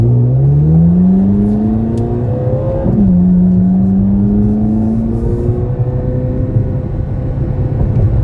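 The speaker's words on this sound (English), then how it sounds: "I'm putting it into track mode. And I'm just going to see how it shifts." A 2024 Chevrolet Corvette Z06 convertible in track mode accelerates hard, its engine note climbing steadily, dropping sharply at a quick upshift, then climbing again, loud and close from inside the cabin.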